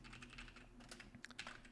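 Keys tapped on a computer keyboard while entering mission details for a conflict scenario in Arma Reforger, a quick uneven run of soft close clicks over a low steady hum.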